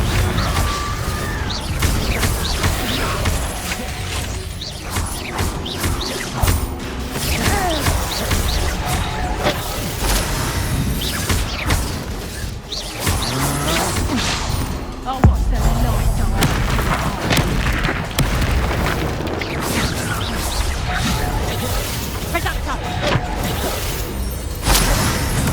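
Combat spells burst in Hogwarts Legacy, dense, loud booms, whooshes and crashes piling up without a break, with a voice calling out over the din.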